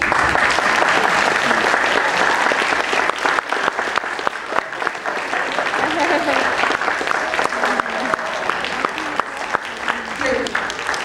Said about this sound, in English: Keep clapping for just a minute